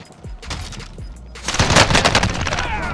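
Serac SMG CX-9 submachine gun firing in Call of Duty Warzone: a few sharp single shots, then a loud, rapid automatic burst with echoing cracks, close and dominant.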